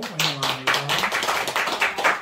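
A church congregation claps in welcome during a Sunday service, a short burst of many hands clapping at close range in uneven rhythm, with a voice trailing off at the start.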